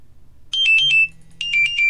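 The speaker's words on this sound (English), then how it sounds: "That's my phone. Sorry, it's my alarm." A phone alarm rings in two bursts of four quick bright electronic chimes each, loud and close, with a brief gap between them.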